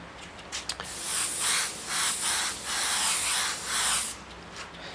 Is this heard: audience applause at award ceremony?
no